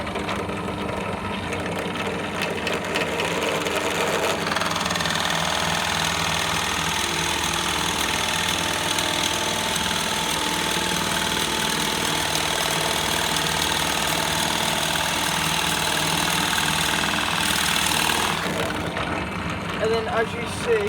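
A drill press bores partway into a wooden ring box blank, its motor running steadily and loudly with a dense broadband whir throughout, rising in grinding intensity midway as the bit cuts in, with speech faintly underneath.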